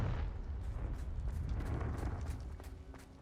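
A Confringo blasting curse detonates in Hogwarts Legacy, a loud rumbling blast that rolls on with crackling debris and slowly fades over a few seconds, heard alone without speech.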